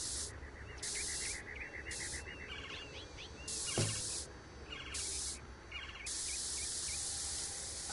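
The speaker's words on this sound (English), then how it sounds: "Spray painting is not very accurate on here." Spray painting in the video game Postal 4 comes as a series of short bursts of hissing aerosol spray, separated by brief pauses and small clicks, fairly close with a faint background bed.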